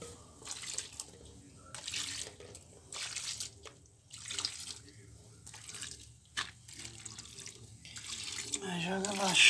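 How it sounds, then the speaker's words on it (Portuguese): Water poured and running over a washed computer motherboard to rinse off detergent, splashing and trickling in uneven bursts close by, with a voice speaking over it. "Joga mais água."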